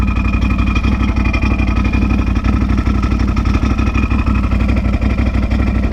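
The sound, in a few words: Can-Am Outlander XMR 850 ATV engine running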